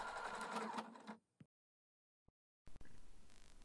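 A sewing machine backstitching to lock a seam while sewing a small fabric wallet: a short burst of rapid stitching, a pause with a faint click, then stitching resumes.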